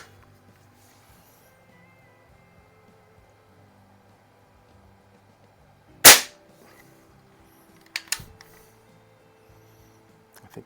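A Sheridan Blue Streak .20 caliber air rifle fires a single sharp, loud shot that cracks out of a quiet backdrop. A fainter, softer knock follows about two seconds later.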